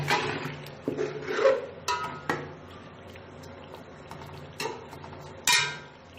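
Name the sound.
chicken and tomatoes being fried and stirred in a pot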